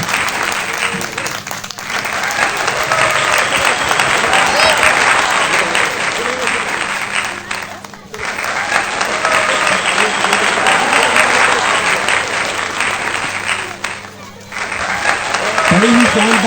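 Dense, sustained clapping from a wedding crowd greets a guest's grand entrance, rolling on loudly for the whole stretch with brief dips around the eighth and fifteenth seconds, while a voice talks over it.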